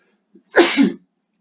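A single sharp sneeze, close and fairly loud, preceded by a brief intake of breath, then silence.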